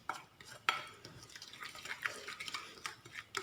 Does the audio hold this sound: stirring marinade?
yes